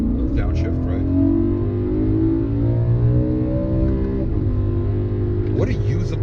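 BMW E90 M3 with its V8 engine under way, giving a steady loud rumble with shifting harmonic tones as revs climb and ease, while someone talks throughout.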